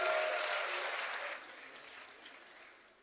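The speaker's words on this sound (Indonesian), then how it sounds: "Tepuk tangan buat Kak Arif." Applause for Kak Arif at a youth gathering fills the room, a broad wash of clapping that starts loud and steadily fades away over a few seconds.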